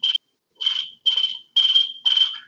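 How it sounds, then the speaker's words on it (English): Crickets chirp in five clear bursts spaced about half a second apart, a steady shrill trill in an otherwise silent, empty-room quiet, used as a comic sound effect. "Crickets in an empty room"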